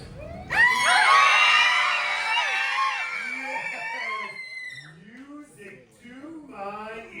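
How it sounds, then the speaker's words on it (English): A crowd of many voices screams together loudly at a villains-themed game show aboard the Disney Treasure cruise ship, then the screaming fades into scattered shouts and chatter. "I want to hear your most blood-curdling scream."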